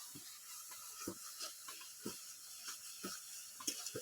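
Pointed gourd dolma frying in hot oil gives a steady, close sizzling hiss, broken by soft irregular knocks about every half second.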